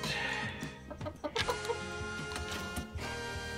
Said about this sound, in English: Well, better go check on my birds.